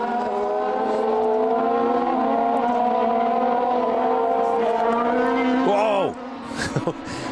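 A 2002 Formula 3000 race car at San Marino slides sideways over the curbs out of the final corner, its engine a loud steady high whine that drops sharply as the car passes, followed by brief tyre chatter.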